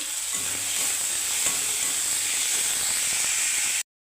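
Onion, tomato and ginger frying in oil for a rui fish curry, a close, steady, bright sizzling hiss that holds evenly for about four seconds, with faint stirring scrapes, then cuts off abruptly.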